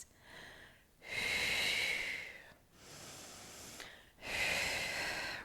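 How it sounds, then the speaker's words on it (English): Three heavy, breathy exhalations during Pilates bridge exercises, each lasting about a second and a half with short pauses between them, close and hissy with no talk. "Exhale, release."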